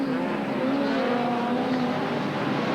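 Hot rod race cars from a 1984 circuit meeting roar past in a steady, loud engine drone with a rising and falling whine as they speed by. The noise is continuous and there is no speech.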